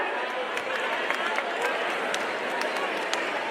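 A crowd at a sports budget announcement event applauds guests in a steady, dense wash of clapping that holds evenly from start to finish.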